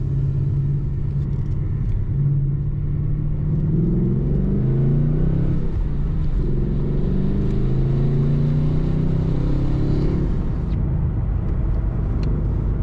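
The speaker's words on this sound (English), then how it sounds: "Maybe I can get a window down and you can hear that exhaust note a little bit." Low, steady engine rumble of a 2018 Ford Mustang GT Fastback's V8 exhaust heard from inside the car, swelling briefly as it revs, with no talking.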